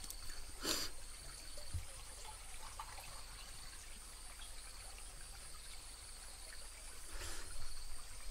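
Water trickles and dribbles in a thin, steady stream, faint and close, with an insect's high buzzing whine running constantly behind it in a jungle setting.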